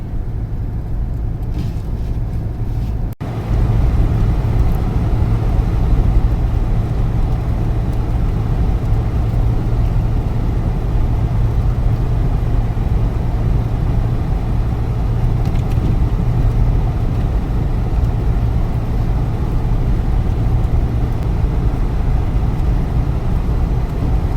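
An old van engine running while driving to warm up the motor, a loud, steady low drone with road rumble that starts after a short quieter moment and continues unbroken.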